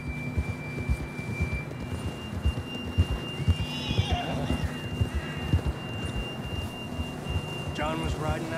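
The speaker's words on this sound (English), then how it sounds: "John was riding that horse when we left Blackwater." A horse whinnies loudly amid rhythmic hoof clip-clops, with a steady electronic tone and game ambience underneath, in Red Dead Redemption 2.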